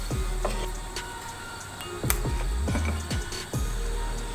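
Sharp ratcheting clicks and metallic knocks from a large wrench turning a shock accumulator cap, loud and close over a low mechanical rumble.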